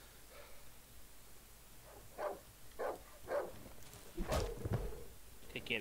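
A dog in the Darkwood video game gives a series of short, muffled barks at a moderate distance, building to a louder, closer burst near the end.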